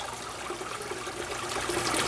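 Water trickling and burbling over rock in a garden pond waterfall, a soft steady splashing close by that grows slightly louder toward the end, with no voices.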